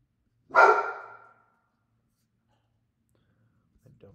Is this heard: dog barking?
yes